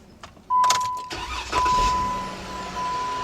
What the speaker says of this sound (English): You can hear that I just started the engine.